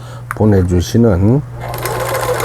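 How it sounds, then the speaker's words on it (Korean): A Singer Merritt SR8 sewing machine, just repaired, stitches in two short bursts of rapid mechanical chatter, close and loud, followed by softer running noise. "보내드리는 기계, 싱거 메리트 SR8이라는 기계 수리를 마치고 박음질하는 영상이었습니다"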